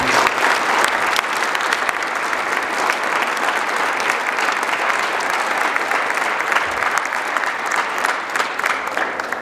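A school speech day audience gives a long, loud round of applause for a boys' water polo team, dense steady clapping from a large crowd that holds even from start to finish.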